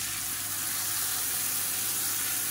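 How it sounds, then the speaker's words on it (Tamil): Ground chilli chutney sautés in hot oil in a kadai, giving a steady hiss and sizzle that holds evenly for the whole moment with no voices over it. "நம்ம அரைச்சி வச்சுருந்த இந்த சட்னியை சேர்த்து நல்லா வதக்கி விட்டுக்கலாம்."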